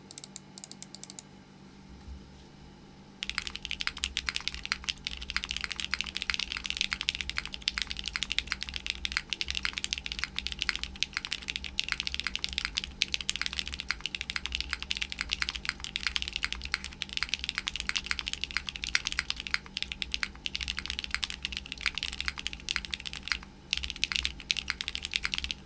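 Fast, steady typing on a custom Cycle7 gasket-mount mechanical keyboard fitted with gasket beans, close and clear, running almost without a break after a quieter opening few seconds.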